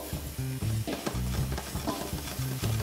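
Pounded herb paste hitting a tablespoon of hot oil in a pan for a vegetarian pad char pasta, a steady close sizzle broken by scraping, clattering stirring strokes, with no voices.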